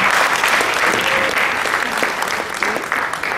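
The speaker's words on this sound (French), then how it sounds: "Applaudissez pour Mme Lamizana" An audience applauding for Mme Lamizana at an evening event: dense, sustained clapping from a crowd filling the whole stretch, loud and close, with faint voices mixed in.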